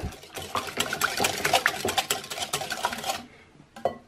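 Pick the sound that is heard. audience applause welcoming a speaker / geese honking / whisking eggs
whisking eggs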